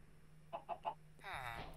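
Chickens in a modded Minecraft game, three quick soft clucks in a row followed by a longer, brighter squawk, faint against a low background hum.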